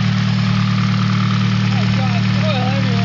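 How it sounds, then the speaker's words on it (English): A Nissan SR20DET engine idles steadily in a close, loud, even drone with a low throbbing pulse, and faint voices are audible in the background. "Will it idle on its own?"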